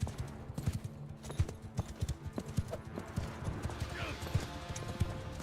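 Horse hooves pound along in Mount and Blade Bannerlord, a close, quick irregular clip-clop of galloping with thuds and a brief whinny, while a voice talks over it.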